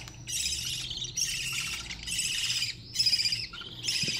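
Budgerigar chicks call nearby in repeated bursts of high, scratchy chirps and squawks, about five clusters separated by short pauses, and no one speaks.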